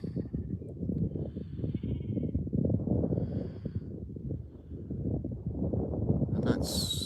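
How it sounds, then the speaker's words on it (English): Sheep bleat in a big open paddock, with several overlapping calls over a steady, busy flock murmur. Sounds stay fairly close and continuous, with no talk. "But the sheep are more spread out now."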